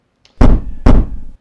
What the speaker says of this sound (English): Two loud knocks thud on Lux's front door.